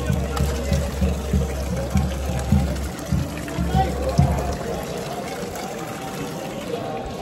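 Spring water flows steadily near the Kedarnath temple, a continuous low rushing murmur under a man's speech that fades and leaves the water alone toward the end.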